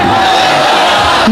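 A large crowd at an Islamic religious gathering roars in unison, a dense, loud collective shout sustained for about a second, like slogan chanting at a sermon.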